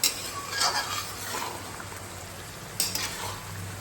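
Meat frying slowly with garlic in a pan gives a soft, steady sizzle, broken by a couple of brief scraping stirs of a utensil, heard up close.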